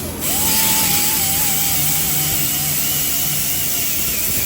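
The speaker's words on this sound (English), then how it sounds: "So what I'll do now is take the grinder, smooth those out." A grinder runs steadily and loudly on a car door hinge from a 1971-76 Chevrolet Caprice/Impala, smoothing down cut spots with a continuous whine that holds from start to finish, no voices.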